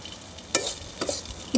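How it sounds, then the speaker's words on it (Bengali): Fried green peas are scooped from a pan onto a plate in three short, faint scraping strokes of a utensil against the pan. "আমার মটরশুঁটি ভাজিটা কিন্তু হয়ে গেল, আর আমি এই যে দেখো প্লেটে তুলে নিচ্ছি"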